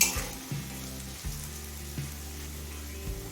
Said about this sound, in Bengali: কাজু কিশমিশ গাজর কাজু কিশমিশ আর বিনস চার পাঁচ মিনিট ভেজে নিয়েছি